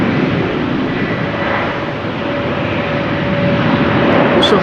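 A KLM Embraer 190 jet at rainy Amsterdam Schiphol Airport makes a steady, loud engine roar that holds evenly throughout, with a faint tonal whine running beneath it.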